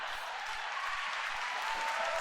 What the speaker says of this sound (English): Why are they cheering that?